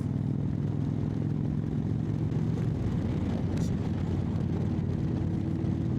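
Motorcycle engine idling steadily after an exhaust leak repair, a close, constant low throbbing drone with a slight shift in tone midway and no talk.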